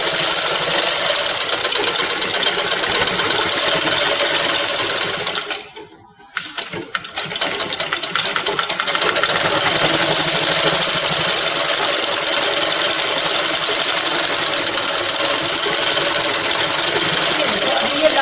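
A sewing machine stitching cloth during a tailoring lesson gives a loud, continuous whirring drone that cuts out briefly partway through, then resumes steadily.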